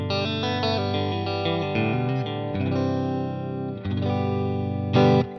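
Electric guitar played through an HX Stomp modelling a Fender Princeton amp with an IR, sustained chords and notes ringing with chorus-like shimmer, moderately loud and alone, with a sharper strum near the end.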